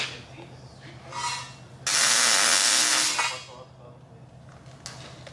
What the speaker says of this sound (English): tack the bottom just on one side.